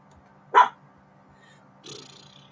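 A person imitates a dog, giving one sharp loud bark and then a softer, breathier yip a moment later, both close against a quiet low hum.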